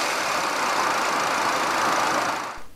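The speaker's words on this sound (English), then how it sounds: "This is a 2-liter i4 VTEC engine." A 2014 Acura ILX's 2-liter i4 VTEC engine idles with a steady, dense drone at close range, holding even for a couple of seconds before cutting off abruptly.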